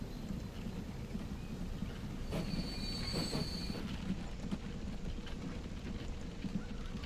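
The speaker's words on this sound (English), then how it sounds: "the train pulls in with more" A train in the game Transport Fever rumbles in steadily with a low, continuous roar, a brief high metallic squeal of wheels rising midway, then fading back into the rolling drone.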